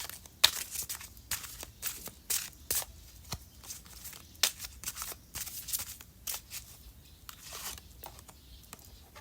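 Tarot cards are spread out across a surface in a pick-a-card reading, making quiet, close papery slides and crisp rustling flicks in irregular bursts.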